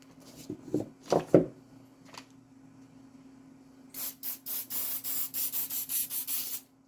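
Nitro solvent is sprayed onto a rifle bolt from a bolt-action Savage Axis in a quick series of short, sharp hissing bursts. Before them come a few soft rubbing and handling sounds.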